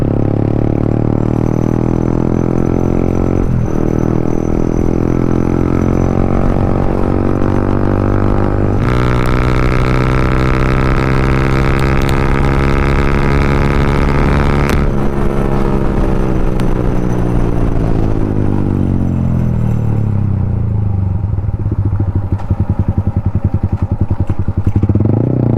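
A Yamaha MT-15 motorcycle fitted with an Akrapovic exhaust rides in the evening, its engine loud and close with a raspy, harmonic drone that climbs and falls through gear changes and throttle shifts, heard alone.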